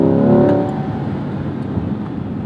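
A naturally aspirated 2021 Chevrolet Corvette C8 Z51 engine accelerates on a gravel road, a loud, close roar that builds briefly and then settles into a steady broadband drone, with no talking.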